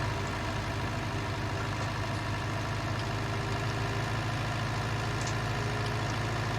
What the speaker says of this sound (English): we should also get a tractor out